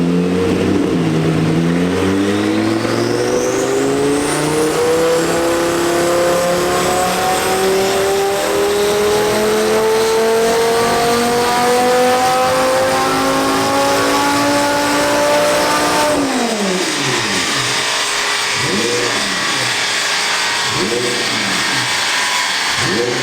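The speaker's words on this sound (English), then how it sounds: "that is the loudest car I've actually heard" Twin-turbo Lamborghini engine revving hard on a dyno, a loud, sustained climbing roar that rises steadily for about sixteen seconds, then drops off into a series of sharp throttle blips and crackles.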